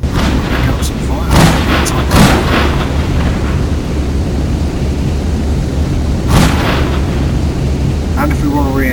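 Weapons on a fighter ship fire in a space video game, heavy booming blasts in a few separated bursts over a constant low rumble.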